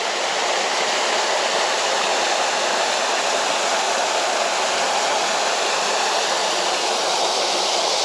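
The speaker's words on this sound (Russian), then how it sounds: "Вот такой, друзья, здесь водопадик в японском саду." Small waterfall in a Japanese garden in Crimea, a constant dense rush of splashing water, steady and fairly loud throughout with no voices.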